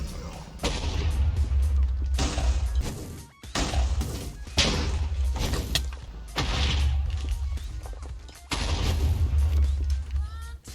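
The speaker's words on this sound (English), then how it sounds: "We shall summon the Ender Dragon." Heavy booming blasts as the Ender Dragon is summoned in modded Minecraft Sky Factory 4, four loud, thudding explosive bursts separated by brief gaps, close and dominant with no voices.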